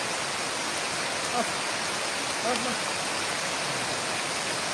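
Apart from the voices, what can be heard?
heavy rain falling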